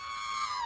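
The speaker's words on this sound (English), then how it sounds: "Put the R2-D2 scream over that." A short, high electronic droid scream in the style of R2-D2, used as a sound effect: a single steady tonal shriek lasting under a second, slowly sliding downward in pitch, heard alone.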